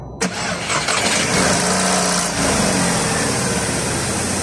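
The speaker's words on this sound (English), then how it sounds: "The car fired up right along on the first start" A VW Golf/Jetta Mk5 with the 2.0 FSI engine cranks briefly and fires on the first try, then settles into a loud, steady idle close to the microphone.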